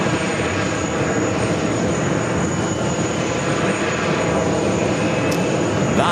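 A Boeing 787 Dreamliner jet taking off at JFK, its engines giving a loud, sustained roar with a faint high whine, steady for the whole stretch and heard alone without voices.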